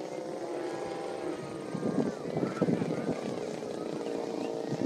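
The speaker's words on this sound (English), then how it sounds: "it looks like Tim's bringing his plane back" Radio-controlled model airplane droning as it flies back in to land over a field, a steady propeller buzz with people talking over it.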